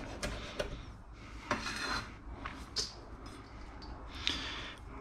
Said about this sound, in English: And then you've got some coriander. Again, chop them up.